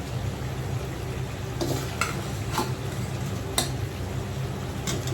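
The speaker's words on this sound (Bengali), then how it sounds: "এখন আলুগুলো দিয়ে দিচ্ছি।" Potatoes tumble into a hot frying pan for badami chicken, sizzling steadily and close with a few sharp clinks and scrapes of stirring scattered through.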